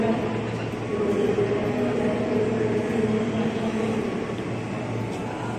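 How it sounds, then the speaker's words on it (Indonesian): JRS 205 series commuter train arriving at Depok Baru station, a steady loud rumble with a low humming drone and tonal whine that holds level throughout, close by. "Akhirnya masuk lagi komuteran tujuan Bogor"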